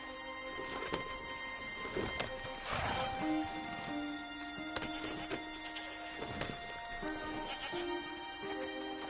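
Horses in Red Dead Redemption 2 trot with soft clip-clop hooves and give a brief whinny, set against a steady bed of game music and ambience at low volume.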